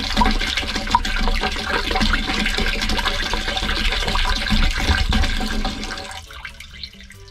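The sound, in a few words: pouring red descaling product into a van's water tank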